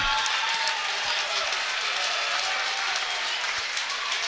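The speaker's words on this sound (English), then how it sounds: "How about a nice round of applause for these two great fighters" A crowd at a boxing fight night applauds the two fighters, a steady wash of clapping and cheering kept up throughout, with voices mixed in.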